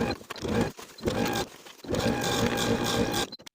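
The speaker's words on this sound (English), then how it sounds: "Now I'm going to sew the inseam starting at the bottom of one pant leg with a 1/2 inch seam allowance" A sewing machine stitches the inseam of palazzo pants from the bottom of one leg, its rapid mechanical whir running in three bursts with brief pauses between, close and steady.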